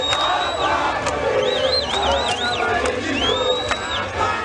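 Huge crowd of MLC militants cheering for Jean-Pierre Bemba at the Athénée de la Gombe grounds in Kinshasa: dense, loud, continuous roar and shouting with whistles trilling above it throughout.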